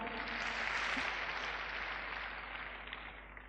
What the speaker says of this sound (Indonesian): Beri aplaus buat mereka.